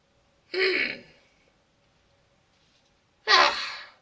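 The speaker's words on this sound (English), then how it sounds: "Don't mean to yawn there" Two separate breathy exhalations with long silence between, like a drawn-out yawn followed by another, close and fairly loud, no talking.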